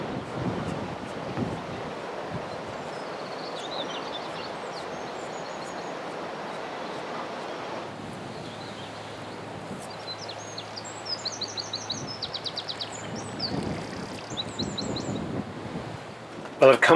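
Gusty wind buffets the microphone in a steady broadband rush outside a narrowboat, with faint birdsong chirping high above it.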